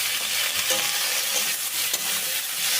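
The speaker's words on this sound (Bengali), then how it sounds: "তেলের মধ্যে দিয়ে দিচ্ছি কিছুটা থেঁতো করে রাখা আদা আর দিয়ে দিচ্ছি ছোট ছোট টুকরো করে রাখা আলু" Crushed ginger and small potato pieces fry in hot oil in a wok, giving a steady, close sizzle with soft stirring scrapes throughout.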